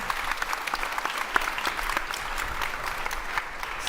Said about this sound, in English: Big applause to the 3 of you, and thanks a lot again.